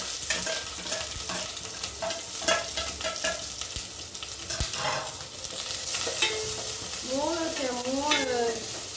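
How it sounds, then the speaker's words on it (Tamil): Onions sauté in oil in a pan with a steady sizzle and frequent scraping stirs, close by, with a brief voice in the background. "இப்போ மறுபடியும் எண்ணெய் ஊற்றி இந்த வெங்காயத்தை மட்டும் போட்டு வதக்குறேன்"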